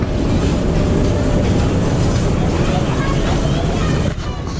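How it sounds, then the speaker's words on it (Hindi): Freight train rolling past on rails at a station on the Lahore to Rawalpindi line, a loud, steady broadband rumble with rail noise that holds for about four seconds before easing slightly; no speech is heard. "हाँ ये मालगाड़ी है, मालगाड़ी।"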